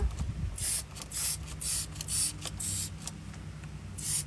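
A trigger spray bottle mists cleaner onto a car tire during a home car wash, giving several short hissing bursts in a loose rhythm, close and fairly loud, with no one speaking.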